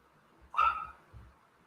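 A single dog bark at a live animals and mental health discussion, one sharp mid-pitched bark followed by a softer trailing yip, moderately close, with no talk over it.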